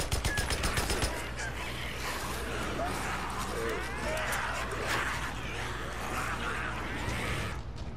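Rapid bursts of automatic gunfire from the video game Days Gone during a sawmill horde fight, loud at first then a dense, continuous clatter of shots and chaotic game noise throughout.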